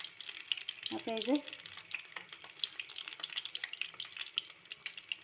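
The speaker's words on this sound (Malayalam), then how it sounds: "ഇത് മാവിൽ മുക്കി എണ്ണയിലിട്ടിട്ട് ചൂടായ എണ്ണയിൽ ഇട്ടിട്ടുണ്ട്" Batter-dipped bajji chillies bubble and crackle gently in hot oil, a soft, fairly quiet hiss with scattered pops, while a person briefly speaks over it.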